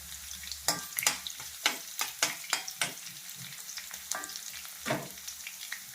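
Cinnamon and cloves fry in a pan with a soft, close sizzle, broken by a series of sharp clicks and scrapes from stirring in a quick, uneven rhythm.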